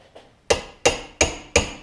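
Four sharp, evenly spaced metal hammer taps on a rod driving an A-arm bushing on a Yamaha Blaster ATV, preceded by one faint lighter tap, close and clear with no talking.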